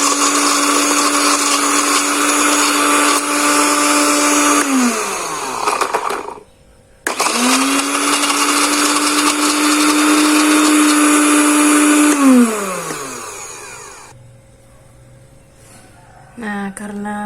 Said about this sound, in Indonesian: Kita blender semua sampai halus.